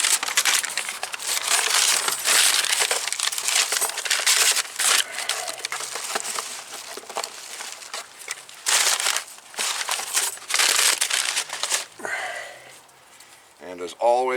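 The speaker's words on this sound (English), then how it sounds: "Unwrap all of your all your brake pads." New front brake pads for a 2015 Toyota RAV4 are unwrapped from their packaging, giving close plastic crinkling and crushing sounds in repeated bursts while someone talks over them.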